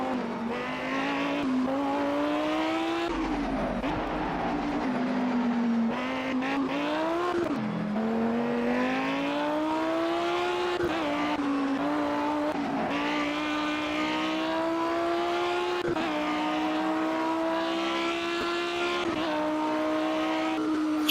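A car in a racing video game, steered with a controller, gives a continuous engine drone that rises and falls with throttle and gear changes, loud and alone throughout.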